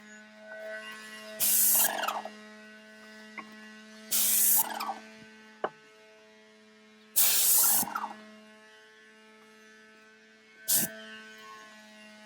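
A spray gun lays a prime coat on a linen cabinet in four short hissing bursts, each about a second long, over a steady electrical hum with quiet gaps between passes.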